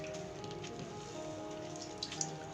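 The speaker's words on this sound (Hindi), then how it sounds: "अब इसे यूं करके निचोड़ लिया।" Soaked bread slices squeezed by hand for a vegetable kebab, water dripping and splashing in a steady patter with a couple of sharper drops near the end, close and alone.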